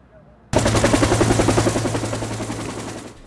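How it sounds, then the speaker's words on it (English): A Huey helicopter flying over a Coast Guard ceremony in Alameda honoring Vietnam veterans: a rotor that cuts in suddenly, loud and close, with rapid steady blade thumping under a low hum that slowly fades. "with the sound of a Huey chopper, memories of the Vietnam era came rushing back"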